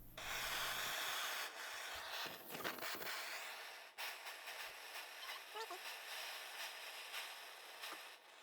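Sandpaper rubs steadily over a metal lamp fitting before soldering, a continuous close scratchy hiss with brief louder strokes partway through, heard alone.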